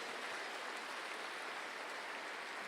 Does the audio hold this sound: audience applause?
yes